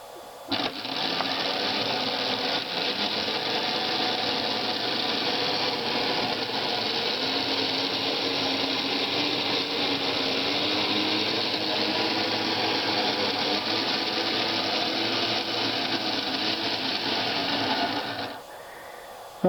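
Homemade cloth-folding machine running on a chain and driving band, giving a steady mechanical whir and rattle for most of the stretch before stopping abruptly near the end, with no talking.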